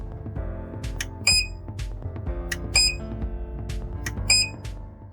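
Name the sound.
KVM switch beeping when switching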